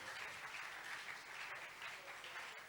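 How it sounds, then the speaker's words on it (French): Steady, dense applause from an audience at a church seminar, continuous and fairly even throughout with no voices standing out. "Est-ce qu'on peut acclamer pour la gloire de Dieu?"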